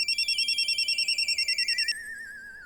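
A telephone rings in a rapid warbling electronic trill, repeated bursts that break off partway as the line is answered, clear and fairly close with no talk over it.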